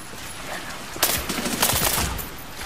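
Gunfire from the Medal of Honor Warfighter video game: a burst of shots about a second in, followed by a dense stretch of rapid automatic fire, moderately loud over a low background.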